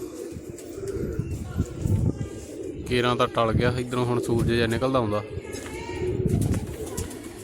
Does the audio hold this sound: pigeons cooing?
yes